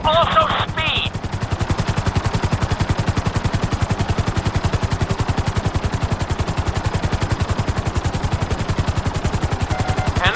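Helicopter in the GTA 5 flight school, its rotor beating in a steady, rapid, loud chop that runs the whole time, with a brief beeping tone at the start.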